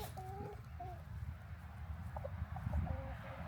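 A backyard chicken clucking in short, repeated calls at close range, scattered across a few seconds over a low rumble of outdoor background noise, with no talking.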